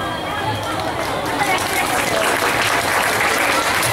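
An audience applauds at a live Bengali folk music show, a dense, steady wash of clapping that holds for several seconds with crowd murmur mixed in.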